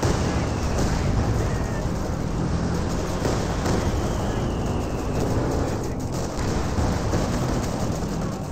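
A Katyusha rocket barrage in a Company of Heroes battle makes a dense, continuous roar of blasts and rumbling impacts that stays loud and unbroken throughout.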